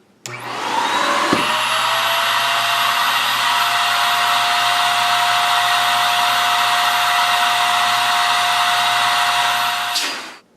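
Simplicity S40P vacuum cleaner switched on, spinning up with a rising whine into a loud steady high-pitched motor drone for about nine seconds, then shut off and winding down, close and alone.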